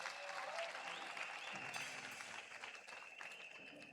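A crowd at a graduation ceremony applauds steadily for a few seconds, a dense wash of clapping that fades slightly toward the end.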